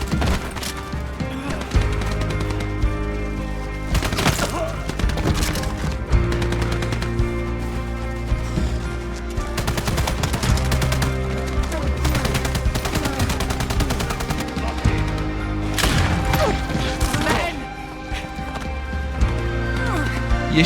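Rapid gunfire bursts from the game Dying Light The Beast crackle repeatedly over a dense, loud battle mix with music and voices, sharp shots recurring throughout.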